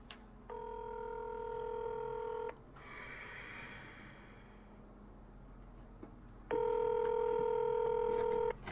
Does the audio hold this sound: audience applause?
no